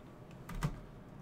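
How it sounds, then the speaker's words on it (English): A few quick keystrokes on a computer keyboard while entering a terminal command during an Arch Linux install in VirtualBox, soft and close, clustered in a brief burst amid quiet room tone. "you need to type the command arch"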